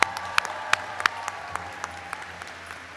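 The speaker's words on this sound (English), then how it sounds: "Let's give Basil a good round of applause as our last grad." Applause from a graduation audience at a Camosun College business convocation, a steady patter of many hands clapping with a few sharper claps standing out, moderately loud and without talk.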